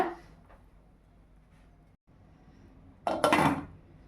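Cauliflower being stirred in a pot and then covered with a lid, a soft scrape early on followed by a brief, loud clattering clank of the lid settling, close and with no talk.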